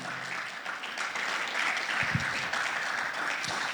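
Congregation at a Spanish-language Sunday evening church service breaks into loud, sustained applause, a dense wash of many hands clapping throughout, with a few heavier thumps near the middle.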